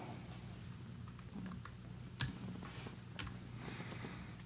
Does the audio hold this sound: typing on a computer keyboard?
yes